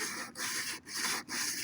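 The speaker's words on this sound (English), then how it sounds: "Sanding off this bit, it's really starting to look different." Sandpaper rubs back and forth over the repaired fiberglass and body filler of a motorhome bumper, giving four close, rasping strokes with short pauses between them.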